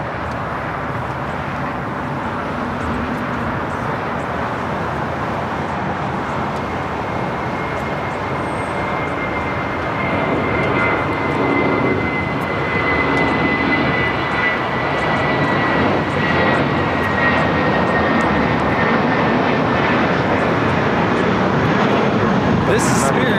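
A 23-year-old Sun Country Airlines Boeing 737-800 arrives at LAX from Minneapolis, its engines a strong, sustained roar with a thin whine that builds gradually toward the close, with people talking underneath.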